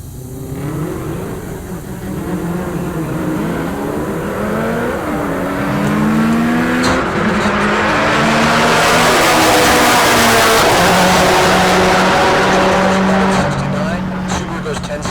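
A Dodge Challenger launches down a drag strip at Heartland Park Topeka during a race week, its engine climbing loudly through the gears and staying close and powerful to the end, with a voice faintly underneath.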